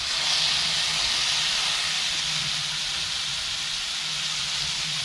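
Marinated bangda (mackerel) pieces fry in hot oil, giving a loud, continuous, even sizzle and hiss at close range with no talk.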